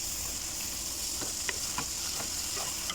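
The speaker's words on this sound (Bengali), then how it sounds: "টমেটো ছেড়ে দেওয়ার পরে এখন আমরা একটু কষিয়ে নিব।" Onions and tomatoes fry in a pan for rui fish bhuna, giving a constant loud sizzle with light ticking pops and occasional stirring scrapes, close up.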